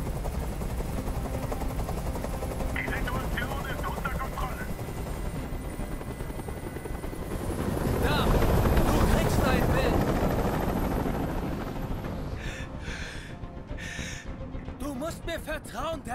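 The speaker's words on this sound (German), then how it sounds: "Ich halte diesen Krach nicht mehr aus. Dieser Helikopter soll verschwinden." Rotor drone of a hovering helicopter in the video game Detroit: Become Human, a loud continuous throb that swells to a peak midway, with bursts of scattered clatter and a voice breaking in near the end.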